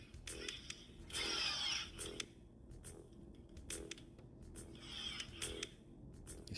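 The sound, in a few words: hole saw drilling a hole for a door knob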